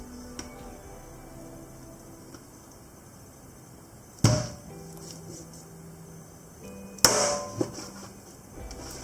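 Raw chicken being cut into smaller pieces with a knife on a board, heard as two sharp, loud chopping thuds a few seconds apart over a quiet kitchen background, with no talking.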